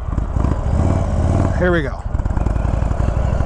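2021 Indian Chief Bobber Dark Horse motorcycle engine running steadily throughout, loud and close, under a voice speaking briefly.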